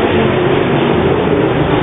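A modified race car at Skagit Speedway on a short track, its engine roaring loud and steady as it throttles up along the back straightaway during a heat race.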